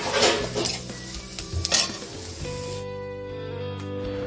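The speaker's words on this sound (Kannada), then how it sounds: "ಈರುಳ್ಳಿ ಎಲ್ಲ ಸಾಫ್ಟ್ ಆಗೋವರೆಗೂ ಫ್ರೈ ಮಾಡ್ಕೊಳ್ಳಿ" Onions frying in a pan until soft for a carrot and fenugreek-leaf palya, a bright sizzle with stirring scrapes and a utensil knock early on, easing into a quieter steady hiss.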